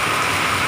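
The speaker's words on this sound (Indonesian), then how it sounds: "Malam ini hujan deras malam minggu." Heavy rain pours at night in Central Jakarta, a dense, steady hiss of downpour on surfaces with no pauses, loud and close throughout.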